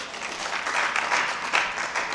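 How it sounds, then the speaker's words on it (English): Steady applause from a conference audience, a dense wash of clapping that holds at an even level throughout with no voices. "can you give yourself a round of applause?"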